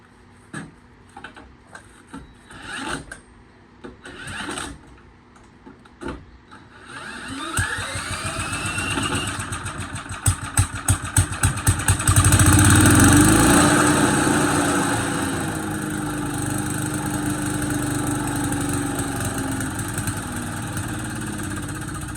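Small engine on an abandoned wood chipper, first a series of separate pull-start attempts with brief sputters, then it catches and runs loud and steady, the revs swelling and settling into a continuous drone.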